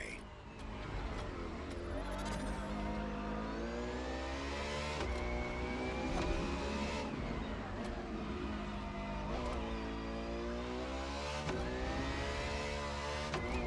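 A Ferrari FXXK, a track-focused LaFerrari derivative, revs hard in The Crew Motorfest racing game, its engine note rising and falling through gear changes, loud and close, with a voice talking over it.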